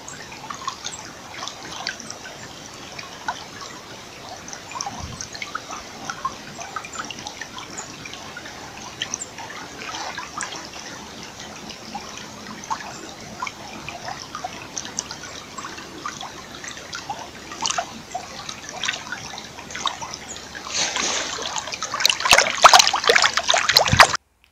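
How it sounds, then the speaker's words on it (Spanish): A river flowing steadily, a continuous close wash of trickling and splashing water at even volume, with a brief burst of brighter splashing near the end. "el tercer entorno sonoro que vamos a escuchar es un río"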